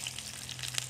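Onion frying in a hot pan after mustard seeds, a steady soft sizzle with small crackles and pops, close and moderately loud, with a low hum underneath and no talk.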